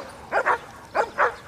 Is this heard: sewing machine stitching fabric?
no